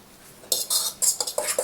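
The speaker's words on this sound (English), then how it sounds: "Stir it around so the egg gets everywhere." Utensil scraping and clinking against a bowl while stirring an egg mixture with vegetables, a run of quick bright strokes in an uneven rhythm, close and with no talk.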